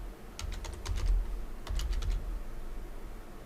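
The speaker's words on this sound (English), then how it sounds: "in that search box, type in Westlaw" Quick keystrokes on a computer keyboard enter a query into a search box, heard as two short bursts of clicky taps close to the microphone over low room noise.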